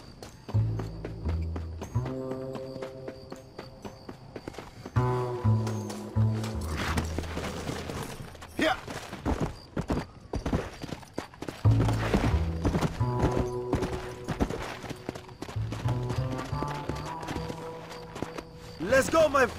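Horse hooves clip-clopping in the Red Dead Redemption game during the Mexican Revolution story, a steady rhythmic beat with occasional whinnies, mixed with voices and musical score throughout.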